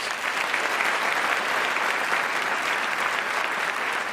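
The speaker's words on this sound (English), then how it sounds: "I'd just like to invite one more round of applause for Robert Rosenkranz." A debate audience gives a full, steady round of applause for Robert Rosenkranz, dense clapping sustained evenly throughout with no voices rising above it.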